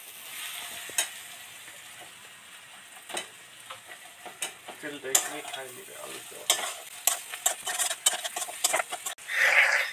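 Potatoes frying in a pan for a homemade chicken curry, crackling and sizzling steadily while a utensil stirs them in irregular scraping strokes, close up, growing louder toward the end with no talk.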